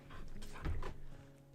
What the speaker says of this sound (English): Oh, poor puppy.